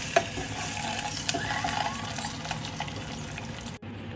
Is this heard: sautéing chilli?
yes